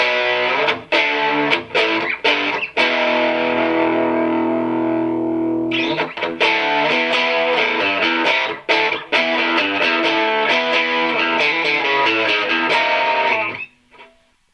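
A PRS SE50 guitar amplifier with the mids boosted gives a gritty, overdriven electric guitar tone. Sustained chords alternate with sharp strummed hits, a brief pause near the middle, then fading out at the end.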